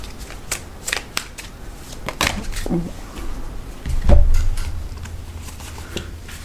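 A deck of oracle-style cards is shuffled by hand at close range, giving a series of quick papery riffles and slaps with brief pauses between, ending in a soft thump.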